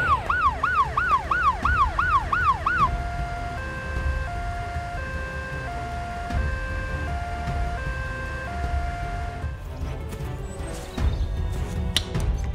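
Cartoon ambulance siren wailing, first a fast rising-and-falling whoop, then a steady two-tone hi-lo pattern over a low engine hum, fading out near the end with a few clanks and beeps.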